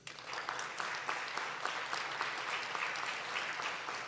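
Audience applause for thirty tenure recipients at a school board of education meeting, a steady, moderately distant wash of clapping from a room of people that holds evenly throughout without talk.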